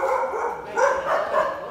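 Outside a room, a dog barks in several short, medium-loud bursts spread evenly over a couple of seconds, with no voices over them.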